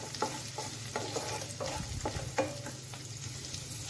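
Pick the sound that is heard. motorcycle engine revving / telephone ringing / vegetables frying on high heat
vegetables frying on high heat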